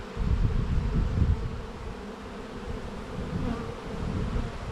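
A steady, dense buzz of many honey bees in front of a hive fills the air, a continuous low drone with no voices, close and fairly loud throughout.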